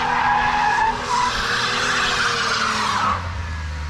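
Loud, sustained tire skid from a Mercedes 190 2.6 six-cylinder being drifted, the squeal rising and falling over a revving engine before easing off near the end.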